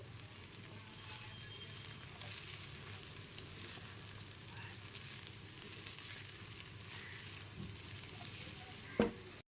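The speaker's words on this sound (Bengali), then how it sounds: "ওপর থেকে নিচে খুন্তি দিয়ে খুব ভালো মতো নেড়ে নিতে হবে নয়তো নিচে পোলাওটা লেগে যেতে পারে" A spatula turns white pulao rice in a hot pan over a low gas flame, a steady faint scraping and soft sizzle running continuously, with a sharper knock near the end.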